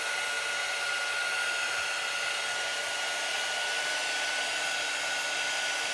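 A hair dryer drying freshly painted surface on a craft project, a steady close whooshing blow-dryer hum that runs at constant loudness throughout with no talking.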